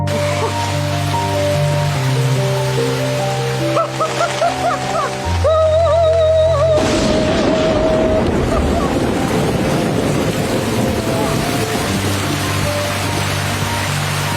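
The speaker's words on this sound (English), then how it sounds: "rain suddenly poured down from above" Heavy rain pours down in a dense, steady hiss that starts abruptly and keeps going, loud and close, after a stretch of music.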